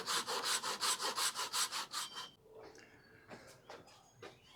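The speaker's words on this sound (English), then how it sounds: "what I'm going to do now is just finish up that cut with the pull saw" A pull saw cuts through a cedar log in about eleven quick, even rhythmic strokes, loud and close, then stops; faint knocks and shuffling follow.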